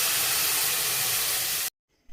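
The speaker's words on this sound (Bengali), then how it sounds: "এবার আমি সর্ষে বাটনাটা দিয়ে দিচ্ছি" Mustard paste hits fried onions in hot oil with a loud, steady hiss of sizzling that cuts off abruptly after under two seconds.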